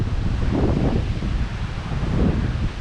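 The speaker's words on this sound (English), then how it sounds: "Windy today." Strong wind buffeting and roaring across the microphone, a steady low rumble with gusty surges and no voices.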